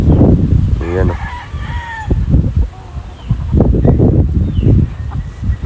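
A local-breed rooster about thirteen months old crows once nearby, loud and close, with clucking and other chicken sounds around it while someone talks in the background.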